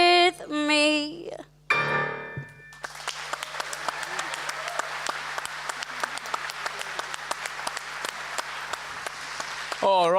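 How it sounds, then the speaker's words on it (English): A theatre audience at a season launch bursts into sustained applause after a sung phrase and a spoken line, the clapping loud, dense and steady until the end. "big round of applause, if you would"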